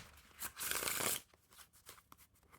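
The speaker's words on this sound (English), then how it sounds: "like riffle shuffle it" Jurassic Park playing cards by Ellusionist are riffle shuffled in one quick, dense burst of rapid fluttering clicks, followed by a few softer taps as the deck is squared.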